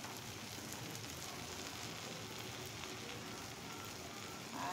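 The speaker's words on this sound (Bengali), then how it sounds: "এখন আমি এর মধ্যে পরিমাণ মতো পেঁয়াজ কুচি দিয়ে দিচ্ছি।" Chopped onion and garlic frying in a pan with fried fish already in it, a steady dense sizzle and crackle of hot oil, close and continuous throughout.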